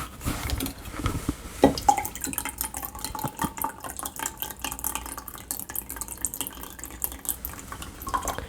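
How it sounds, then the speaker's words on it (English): Red wine vinegar trickles and drips into a measuring cup, a light, uneven splashing patter with small clinks of glass, close and moderately quiet, with no speech. "Then I'm going to do 1/4 cup of the red wine vinegar."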